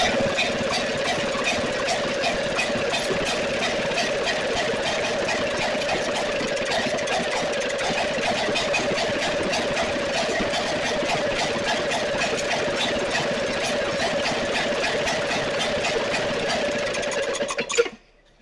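A 1933 Maytag Model 92 gasoline engine runs without a muffler, popping in a fast, even, loud rhythm for the whole stretch before cutting off abruptly at the end.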